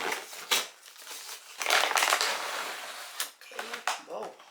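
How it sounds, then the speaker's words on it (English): Plastic clamshell box of Costco vegetable spring rolls being opened, with close crinkling and crackling of stiff plastic in several bursts, the loudest around the middle, and brief sharp snaps near the end. "So let me open it first to see how it looks like inside."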